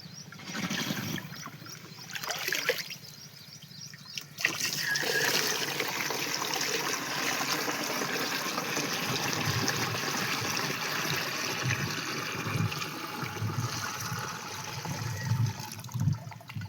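Water pouring steadily into a plastic can for mixing monocrotophos and powder pesticide spray for cotton fields, a continuous close trickling and splashing rush that runs throughout, with no talk.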